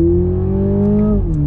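A 2021 Toyota Supra with a 2.0-litre four-cylinder turbo pulls away from a dead stop, its loud engine note rising steadily in pitch before dipping briefly near the end, heard alone without talk.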